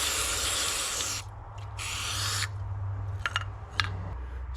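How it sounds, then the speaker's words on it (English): Carb cleaner sprays in two close, hissing bursts into a snowmobile carburetor bowl, separated by a short pause, followed by a few small clicks and handling noises over a low background hum. "Just going to clean that out with some carb spray."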